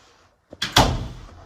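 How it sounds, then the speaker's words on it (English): The door of a home elevator in a house in East Duncan, Maple Bay, being closed: a soft latch click followed by a single firm, close thud that fades quickly into quiet. "Door gets closed."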